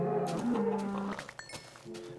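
Minecraft cows mooing, a loud, close low moo in the first second followed by quieter game noises.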